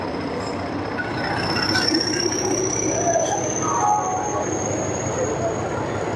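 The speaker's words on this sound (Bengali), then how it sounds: "এখন 12 নম্বর প্ল্যাটফর্ম বিভূতি এক্সপ্রেস ঢুকছে।" The Vibhuti Express rolls into platform 12 at a station, a steady rumbling roar of wheels with a long high squeal running throughout and faint background chatter, close and fairly loud.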